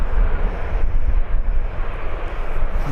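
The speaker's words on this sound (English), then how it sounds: "Here comes the Learjet," A Learjet taxis onto the runway at Birmingham Airport, a loud, close, steady jet engine rumble with a fluctuating low roar and no talk.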